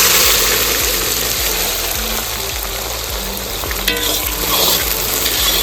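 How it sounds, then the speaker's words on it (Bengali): Chopped onions fry in hot oil with bay leaf and cumin, a steady loud sizzle broken by repeated scraping strokes of stirring, close up with no talk. "এবার কুচিয়ে রাখা পেঁয়াজগুলো দিয়ে নিচ্ছি।"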